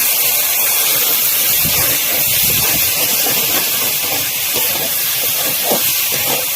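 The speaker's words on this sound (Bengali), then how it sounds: "একটু জল দিয়ে দিচ্ছি" Water splashed into a hot kadai of frying spice masala for a cauliflower and potato curry sets off a loud, sustained steam hiss that fills the whole stretch close up, with faint bubbling beneath.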